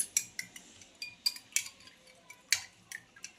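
A spoon stirs jaljeera powder in a glass, giving a series of close, bright metallic clinks in an uneven rhythm.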